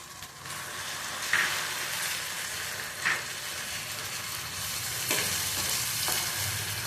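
Spice paste frying in a pan alongside boiled eggs, a steady sizzle with a few sharp utensil clinks and scrapes as it is stirred, no talking.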